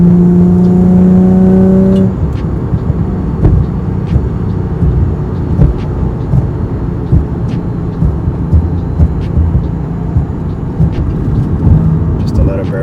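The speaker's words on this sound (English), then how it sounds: "Just a little burble." A Lexus idles with a low, rumbling exhaust burble that runs steadily for several seconds. It sits close and fairly loud, with an uneven pulsing texture and a brief tonal hum at the start.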